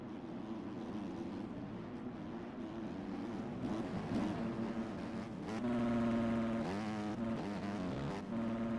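250cc motocross motorcycles race at a pro-am round, their engines droning loudly and steadily, with a sharper rising rev surging in the second half and no talk over them.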